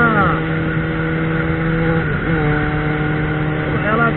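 A Yamaha XJ6 motorcycle engine with an aftermarket exhaust revs, its loud buzzing tone holding steady, dipping briefly, then rising again; someone speaks over the engine.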